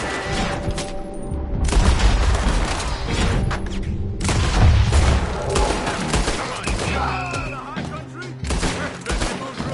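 Heavy gunfire from Red Dead Redemption 2 crackles in dense volleys with booming reports, loud and sustained, while voices talk over the shooting.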